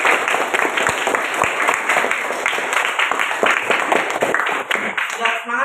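An audience of schoolchildren clapping in a classroom, loud, dense applause sustained throughout before fading slightly at the end, with faint voices underneath.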